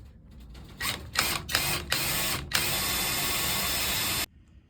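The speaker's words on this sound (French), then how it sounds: "J'ai pris une mèche de 3 pour être plus sûr. Je perce plus petit" A small 3 mm bit drills a pilot hole for a greenhouse roof window, a steady high whirring buzz running about three seconds after a few short starts, then stopping abruptly.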